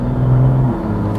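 Interior of a BMW M2 with the N55 engine accelerating, a loud steady engine drone that climbs in pitch, then dips briefly as the gear shifts.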